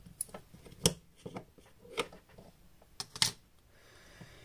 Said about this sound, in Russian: открываем крышечку, вот эту. Пускаем вниз, открываем, извлекаем аккумулятор.